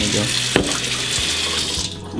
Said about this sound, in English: I'm going to make sure I got enough water in there.